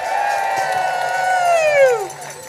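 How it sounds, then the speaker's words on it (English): A protest rally crowd cheers a speaker: loud, close crowd noise with a strong voiced whoop that sweeps downward in pitch before dropping away. "Let's give her a round of applause."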